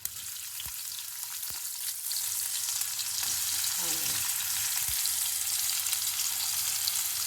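Onions fry in a pan with cumin and mustard seeds for a curry, giving a steady hiss of sizzling oil with a few sharp pops and a brief stir, and no one speaking.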